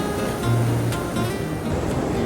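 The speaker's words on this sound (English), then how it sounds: "I can only go to the ramp because the waves are so strong." Strong ocean surf at a beach near San Sebastián on Spain's northern coast, a steady broad wash of breaking waves close by with a low rumbling swell underneath and no voices.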